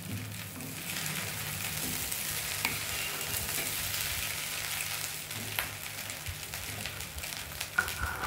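Mixed vegetables for navratan pulao, including potato, stirred in a pan with ghee: a continuous sizzle with scraping stirs and occasional clinks throughout, moderately loud and without speech.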